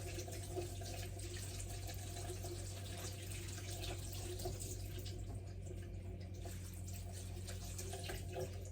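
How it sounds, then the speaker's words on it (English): Tap water runs steadily over ingredients being rinsed one at a time in a kitchen sink while preparing a slow cooker meal, a constant close hiss with faint splashes throughout. "I'm just going to rinse one at a time."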